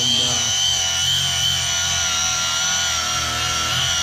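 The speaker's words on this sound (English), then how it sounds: "I'm really liking this cordless angle grinder." A cordless angle grinder fitted with a diamond wheel runs with a loud, steady high-pitched whine, close up, its pitch settling slightly early on and then holding constant for a few seconds.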